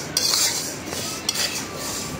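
Mung dal being dry-fried in a wok, with steady scraping and clinking of a spatula against the metal, and a few sharper clanks over a faint continuous background.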